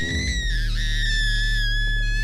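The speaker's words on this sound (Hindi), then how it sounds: "यहाँ हवाओं का शोर अक्सर ऐसा महसूस होता है जैसे कोई चिल्ला रहा हो।" Eerie wind sound in an old palace in an animated Hindi horror story, a steady high, wavering whistle like a distant scream, droning alone over a low rumbling bed.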